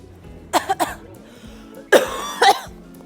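Two separate coughing fits, each a pair of harsh, close bursts, with a quiet pause in between.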